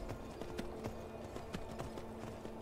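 Horse hooves in the video game Skyrim clip-clop at a steady walking pace, moderately close and fairly quiet, over a low background hum.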